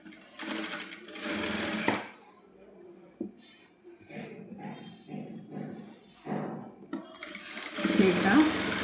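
A sewing machine stitches a maxi dress sleeve in bursts of steady whirring, loudest near the start and end, with quieter gaps of thumps and fabric handling between runs.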